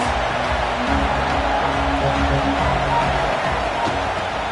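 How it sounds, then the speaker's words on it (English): A dense, steady stadium crowd roar from a Syracuse versus Ohio State college football video game, loud and continuous, with no talk over it. "This crowd trying to make life miserable for this offense."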